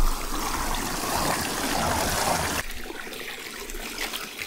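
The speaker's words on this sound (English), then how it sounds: "Drains the water as you put it in." Water pours and trickles steadily through a draining pot, then the flow drops off to a softer dribble near the end.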